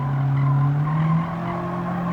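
A Honda Civic SiR in Gran Turismo 7 skids under hard braking at Tsukuba Circuit, a steady tonal engine drone with tire noise continuing for about two seconds, loud and close.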